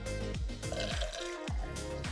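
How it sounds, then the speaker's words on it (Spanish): Filtered water running from a kitchen faucet into a small glass, close and steady, the gurgle rising in pitch as the glass fills, with no talk over it. "sacas el agua filtrada"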